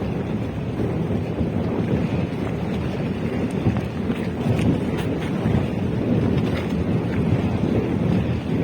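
Strong wind roars across the microphone at sea on a fishing trip, a constant heavy rumble with bursts of gusting noise and no voices.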